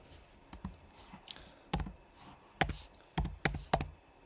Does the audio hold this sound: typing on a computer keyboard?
yes